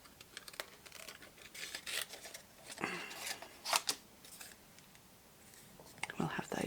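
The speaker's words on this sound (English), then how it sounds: "fussy cutting is not my thing." Scissors snipping paper by hand for a Stampin' Up! lidded lily pad box, a scattered run of short crisp cuts and rustles, close and fairly quiet, with faint talk in places.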